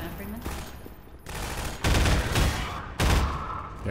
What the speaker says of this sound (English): They're shooting me, they're shooting me.